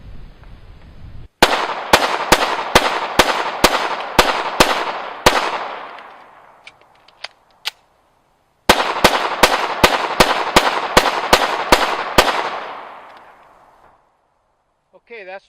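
Twenty rounds of semi-automatic gunfire are fired at a target in two strings of about ten sharp, loud, evenly spaced shots, each burst ringing with echo and falling off into quiet.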